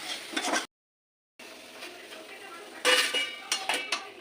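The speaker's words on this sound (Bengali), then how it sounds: "হালুয়া রেডি এবার আমি আস্তে আস্তে ঢেলে দিচ্ছি" Carrot halwa being poured and scraped out of a cooking pan, with several clinks and scrapes of metal utensil against cookware, louder bursts near the end, and a brief silent gap early on.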